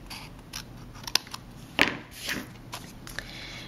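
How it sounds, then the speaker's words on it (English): Scissors trim excess paper off a handmade card in a few close, crisp snips and crunchy cuts, with soft rustling in between. "I'm going to turn the card over and trim off the excess here"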